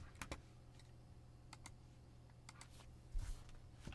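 Someone types on a computer keyboard in a room, scattered faint key clicks in short clusters over a low steady hum, with no talking.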